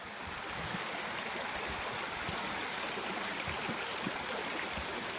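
A river near Langlee Ford Farm in the Harthope Valley rushes and burbles in a steady, close, unbroken wash of water noise with no voices.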